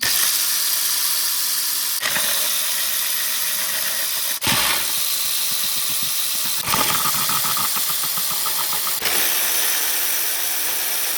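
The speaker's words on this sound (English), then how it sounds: "Don't forget to remove the bolts inside here." Bolts being removed from a BMW M57 valve cover, a steady rasping whir of a power tool broken by a few sharp clicks and brief pauses, close and fairly loud.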